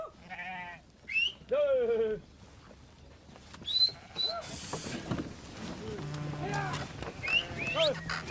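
Sheep in a mountain herd bleat in several wavering calls, some close and some farther off, with chirping birds and a voice talking in the second half.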